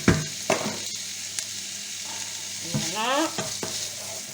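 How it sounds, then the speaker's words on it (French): Lardons sizzling in a hot pan as a utensil scrapes and stirs them, a steady frying hiss broken by several clattering stirs, close and fairly quiet, with one brief spoken word. "Je vais mettre mes lardons."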